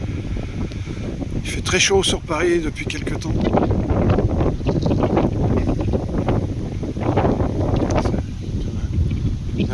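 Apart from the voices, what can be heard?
wind blowing into microphone outdoors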